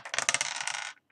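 Dice rolled for a random page pick during a German reading, giving a bright clattering rattle of about a second that stops sharply, followed by a couple of faint settling ticks.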